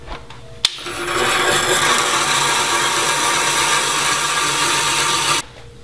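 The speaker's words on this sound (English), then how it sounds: "we're going to drill a smaller hole a little bit deeper, another 3 or 4 inches," A power drill boring a smaller, deeper hole into an old barn beam on a lathe, starting with a sharp click and then a steady, loud grinding whir for about five seconds before stopping abruptly.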